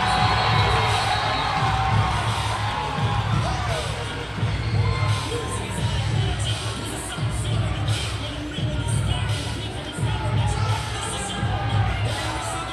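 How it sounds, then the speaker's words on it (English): An indoor arena football crowd roars steadily, a dense wall of cheering and shouting with rhythmic pulses, heard from within the stands. "Crowd's getting loud."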